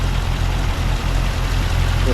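A 2017 Chevrolet SS with a six-speed manual idles, giving a steady, loud low rumble under heavy broadband noise for about two seconds.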